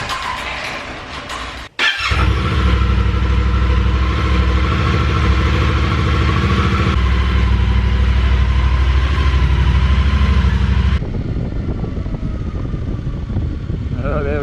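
A Yamaha Tenere 700 adventure motorcycle engine fires up loudly after a brief quiet moment, then holds a steady, close mid-pitched drone while riding off on a cold day, easing down near the end.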